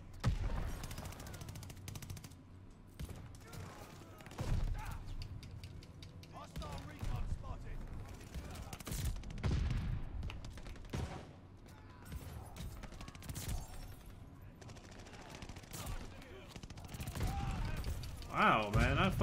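Call of Duty Vanguard multiplayer gunfire: repeated bursts and single shots, loud and close, broken by pauses and mechanical clatter, with someone talking over parts of the action.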